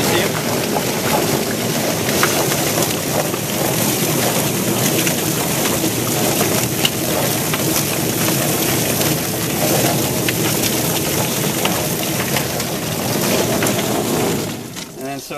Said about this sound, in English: There's a little water on valve that kind of lets the water start spraying, and we have a little foot valve, so we let it spin